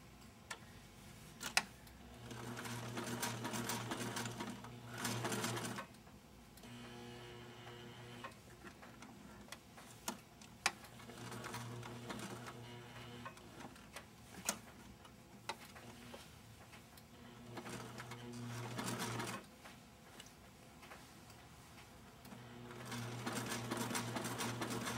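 Domestic sewing machine back-stitching the thumb of a fabric doll, running in several steady rapid bursts with short pauses between them, close and fairly quiet.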